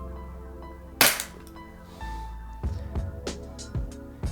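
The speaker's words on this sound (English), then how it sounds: "One more shot." An EMG CANIK TP9 Elite Combat pistol fires one sharp, loud crack near the start, followed by a run of smaller clicks and clacks from the gun being handled.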